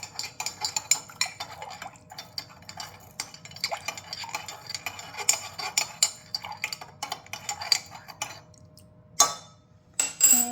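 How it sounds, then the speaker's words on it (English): A utensil scrapes and clinks repeatedly against the inside of a pot, stirring to dissolve an ingredient for goat milk mozzarella, in quick irregular strokes, with a couple of sharper knocks near the end. "I'm going to stir it up so it dissolves"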